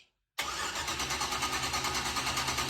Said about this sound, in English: doesn't sound like it's running on all cylinders